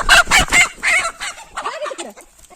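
A hen in a tin-sheet coop makes a short run of clucking calls, close and fairly loud, with a few quieter squawks trailing off at the end.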